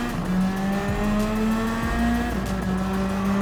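A 1999 Toyota Supra GT500 race car in Gran Turismo 7, its engine droning steadily at high revs with pitch dips and rises through gear shifts, loud and continuous, with no voices.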